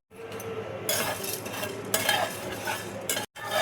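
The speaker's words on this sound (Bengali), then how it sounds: "গোটা জিরে দেখো দিয়ে দিচ্ছি, এগুলি সব আমি ড্রাই রোস্ট করে নেব।" Whole cumin seeds and cloves dry-roasting in a pan for a jackfruit curry, with steady close scraping and stirring, light rattling of seeds against metal and a brief pause near the end.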